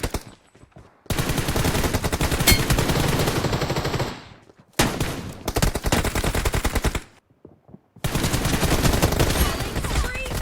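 Rapid bursts of gunfire in the mobile battle royale game PUBG Mobile, loud and dense, arriving in several long volleys separated by brief pauses.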